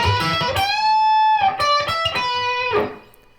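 Distorted electric guitar plays a lick, a few sustained notes with upward string bends and a final ringing note that fades out, played alone without speech.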